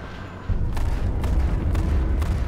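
A car explodes in a shooter video game, a sudden deep boom followed by a sustained low rumble with scattered sharper cracks, loud and close, with no talk over it.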